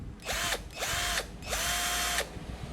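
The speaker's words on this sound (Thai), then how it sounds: "แบบที่3นี้แบบกระแทกด้วยนะครับ เจาะปูนนะครับ" A Gianttech 20V cordless impact drill on its hammer setting runs in three short bursts, each with a whirring rise and a rattling buzz, close and loud, separated by brief pauses, no talk.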